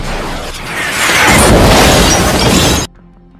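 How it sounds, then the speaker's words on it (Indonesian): Missile striking a car in an action film: a loud, sustained crashing blast with shattering debris that swells over about three seconds, then cuts abruptly to quiet. "sebuah pasukan tiba-tiba menembakkan misil ke arah mereka"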